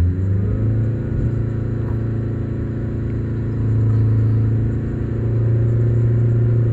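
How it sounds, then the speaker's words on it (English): A Mazda Skyactiv engine, freshly fitted with a replaced camshaft and oil strainer, is held at a steady 3500 RPM, giving a loud, sustained low hum and rumble that swells slightly partway through. "Now let me do the 3500 RPM."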